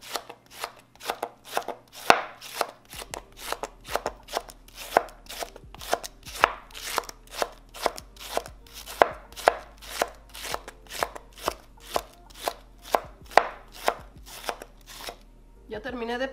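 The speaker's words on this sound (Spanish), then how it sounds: "voy a picar el repollo. Píquenle lo más finito que puedan." A knife finely chopping cabbage on a cutting board, a fast, steady run of crisp close-up strikes lasting throughout with no talking.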